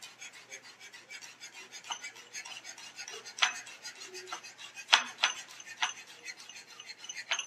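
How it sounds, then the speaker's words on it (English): A knife chops fresh herb leaves finely on a cutting board for broiled grouper with Creole hollandaise, making a steady run of quick, close rasping taps with a few sharper knocks. No one speaks. "Then we're going to turn it sideways and just do a real fine chop."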